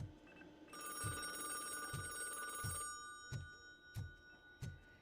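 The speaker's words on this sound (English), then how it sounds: "Fine, I'll answer the phone, jerks" A telephone rings in RoboCop: Rogue City with a bright electronic bell tone, sustained at first and then pulsing in short repeated bursts, over regular soft low thumps and no talk.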